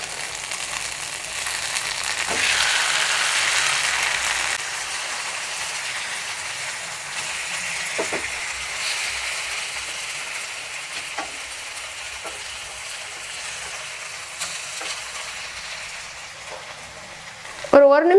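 An egg pepper fry sizzles steadily in a pan as one side finishes cooking, giving a continuous close hiss with a few soft clinks and a brief sharper sound at the very end.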